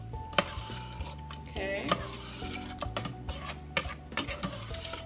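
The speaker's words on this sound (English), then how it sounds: "And give that a really good stir." Canned tomatoes for marinara sauce are stirred in a pot: a spoon scrapes and knocks against the metal, with irregular clanks and a soft bubbling beneath, close by, while a voice briefly speaks.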